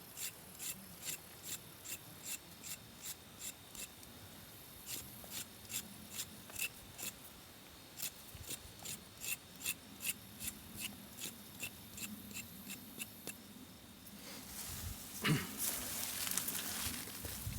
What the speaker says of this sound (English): When you scrape it off, it is white